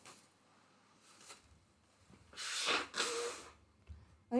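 Two sharp, breathy nasal bursts, a sneeze or forceful snort close up, rising from a quiet background and followed by faint breathing.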